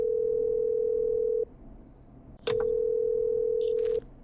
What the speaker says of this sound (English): Alright, calling her now.